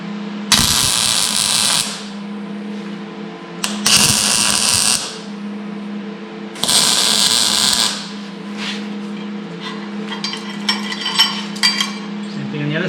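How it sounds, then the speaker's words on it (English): Welding on a custom subframe for a BMW E30 project car, three loud crackling bursts of a few seconds each over a steady hum, followed by lighter clicks and taps. "And then just weld."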